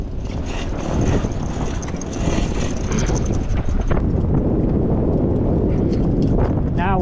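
Strong wind roars across the microphone while sailing a boat on a lake in big winds, a loud, rough rush with gusts building after the first second, water and hull noise beneath.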